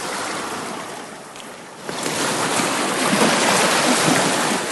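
Surf washing against a beach strewn with slippery black rocks, a steady broadband rush that swells after a quieter opening, with some wind buffeting the microphone and no talk.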